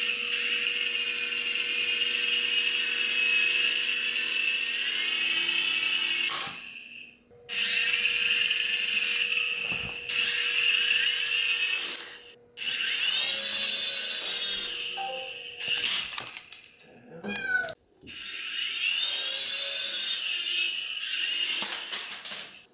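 A cheap $5 Air Victor remote control toy helicopter whines with a high, buzzing electric rotor sound in several bursts, cutting out briefly between runs and shifting pitch as it climbs and drops.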